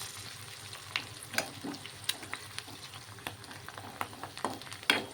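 Curry leaves and green chillies frying in hot oil, a steady sizzle broken by scattered sharp crackles and pops at close range.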